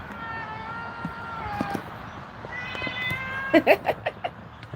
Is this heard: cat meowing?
yes